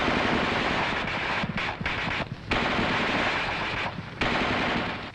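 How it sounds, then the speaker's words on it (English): An M551 Sheridan armored reconnaissance vehicle's coaxial machine gun firing long bursts outdoors, a loud, harsh, continuous rattle broken by a few short pauses between bursts. "The gunner continues to fire in 20 to 25 round bursts until he receives the command, Target, cease fire."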